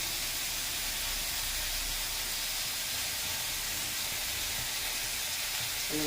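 Brinjal sautés in a pan with salt and asafoetida, giving a dense, even hiss of frying that holds unbroken and fairly loud from start to end, with no voices over it.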